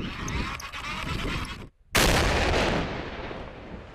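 A heavy blast erupts after a brief silence: a loud, deep explosion of munitions detonated with TNT blocks, with a long rumbling tail, preceded by rough, noisy outdoor rumble.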